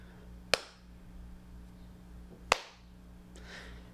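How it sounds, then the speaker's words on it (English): Two sharp hand claps, about two seconds apart, each short and dry with very little echo in a quiet, acoustically damped recording studio. "So if I clap, it's probably going to sound a little drier and less reverberant."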